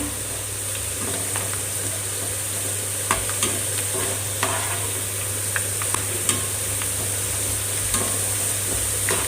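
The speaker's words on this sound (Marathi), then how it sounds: "हे जे बटाट्याचे काप आपण करून घेतलेले आहेत ते तळण्यासाठी मी येथे शेंगदाणा तेलाचा वापर केलेला आहे" Potato slices deep-frying in peanut oil fill the kitchen with a steady, close sizzle, dotted with a few sharp crackles and light stirring clicks, with a low constant hum underneath and no voices.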